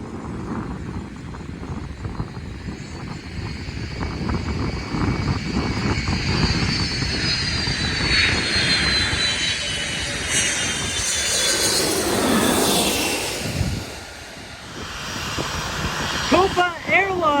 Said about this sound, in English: Here we go, another plane.